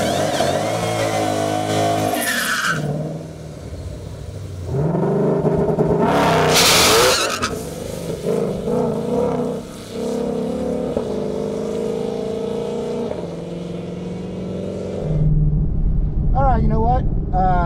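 A supercharged GT500 running 93 octane accelerates hard on a pass, its engine roaring loudly with rising and falling revs and gear changes, with tire and wind noise and occasional voices over it.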